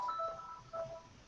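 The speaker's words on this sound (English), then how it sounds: "And that was my phone, I apologize." A phone's ringing or notification tone: two faint groups of short electronic beeps, each group made of a few quick tones, low behind a soft background hiss.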